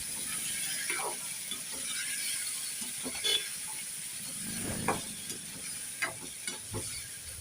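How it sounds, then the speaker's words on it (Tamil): Onions and tomatoes sauté in a pan with a low sizzle, punctuated by irregular scraping and clacking as a spatula stirs them. "இந்த தக்காளியும் சேர்த்து வதக்கிடுங்க நல்லா."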